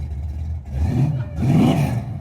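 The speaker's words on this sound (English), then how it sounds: "Listen to that engine burr, baby. Come on, crank it." A hot rod's engine revs up in two rising swells at a rod run, a low mid-pitched drone, close by and with no voices.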